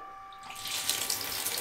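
Water from a bath tap in a UK family home gushes on suddenly and keeps running steadily, close and fairly loud, with no talking.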